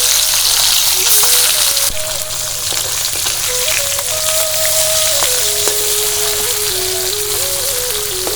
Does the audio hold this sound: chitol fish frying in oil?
yes